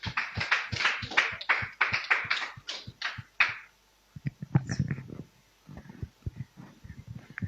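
A church congregation claps in a quick, rhythmic burst for a few seconds, then fades into scattered softer claps and thumps; no clear cheering stands out.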